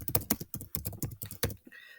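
Rapid, close keystrokes on a computer keyboard patter in uneven bursts for about a second and a half, crisp and quiet, then stop, with a short soft tone sounding afterward.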